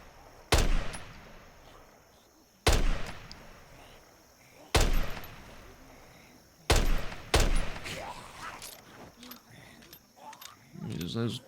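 Five loud revolver gunshots ring out in Project Zomboid, spaced a couple of seconds apart with the last two close together, each sharp crack trailing into a short echo over a quiet background.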